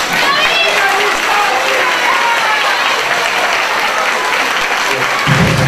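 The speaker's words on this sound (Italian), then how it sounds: "facendo un bel applauso." A crowd at a carnival wedding skit bursts into loud, sustained applause, a dense wash of clapping that carries on steadily for several seconds with crowd noise mixed in.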